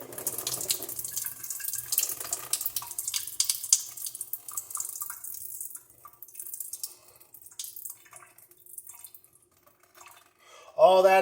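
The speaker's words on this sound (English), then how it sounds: "All that excess water comes out." Excess water draining out of food into a sink, with splashing and trickling that fades to sparse drips and quiet gaps, ending in a louder burst of sound.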